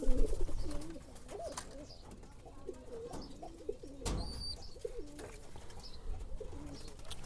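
Pigeons cooing after being let out of their boxes, repeated soft throaty coos close by in a steady run, with a few light chirps and scuffles around them.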